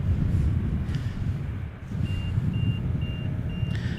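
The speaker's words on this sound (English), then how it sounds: "that beeping noise is a security gate, by the way, folks." A security gate at Boeing Paine Field sounds a steady series of evenly spaced high electronic beeps over heavy wind rumble outdoors.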